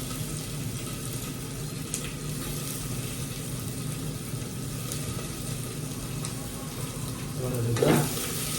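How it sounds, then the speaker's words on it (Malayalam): Sliced onions dropped into hot oil for a beef curry give a continuous close sizzle and frying hiss, with a brief louder clatter near the end. "അപ്പം എണ്ണ ചൂടായി വന്നു കഴിഞ്ഞാൽ നമ്മൾ നേരെ സവാള ഉണ്ടല്ലോ, സവാള കുറച്ച് എല്ലാം കൂടെ അതിനകത്ത് ഇടുക."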